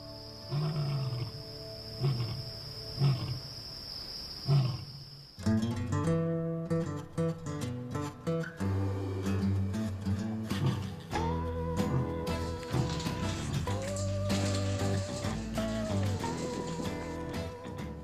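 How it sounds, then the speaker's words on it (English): A lion at a wildlife rescue sanctuary roars repeatedly in a long, rhythmic series of deep, loud calls, mixed with a steady musical backing throughout. "Anthony, the lion, came to Keepers of the Wild as a sickly cub"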